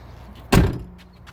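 The door of an older 80 Series Land Cruiser swings shut with a single solid thump as the latch catches, a close, short slam followed by a brief fading rumble.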